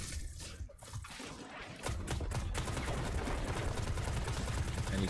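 Rapid gunfire rattles in Destiny 2 during an Xbox One public event, a fairly faint continuous stream of shots that grows denser after the first couple of seconds.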